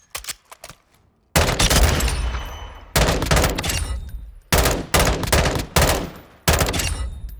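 Rifle fire in Modern Warfare II: a few quick single shots, then four long, loud full-auto bursts separated by short gaps, harsh and close with no talk.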